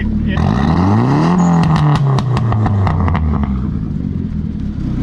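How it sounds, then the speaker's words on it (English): A Mazda Miata revs hard close by, its exhaust rising and falling with loud burbles and crackling pops throughout, while people talk over it. "I'm so over that like burble pop noise stuff"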